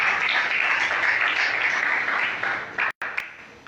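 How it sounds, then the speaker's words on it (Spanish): A church congregation applauding during an evening service, a dense, even patter of clapping that holds steady before cutting off sharply with a brief gap and a final few claps. "Dale un fuerte aplauso al Señor"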